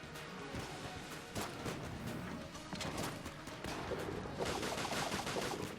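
Dense, continuous gunfire from Enter the Gungeon, a steady rapid stream of shots and impacts that holds loud throughout, with no talking over it.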